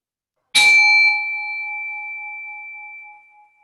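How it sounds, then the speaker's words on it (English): A single meditation bell is struck once, ringing out clearly with a long, pure tone that slowly fades over a few seconds in silence. "until you hear the sound of my bell"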